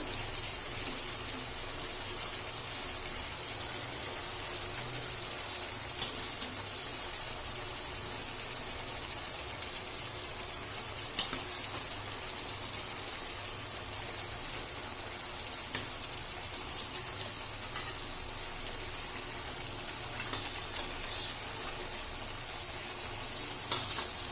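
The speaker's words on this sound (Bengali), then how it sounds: "আলু আর পনিরের সাথে মশলাটাকে ভালো মতো নাড়িয়ে কষিয়ে নেব।" Potato and paneer pieces stir-fry with spices in a pan, making a soft, even sizzling hiss with light crackles that continue for the whole stretch.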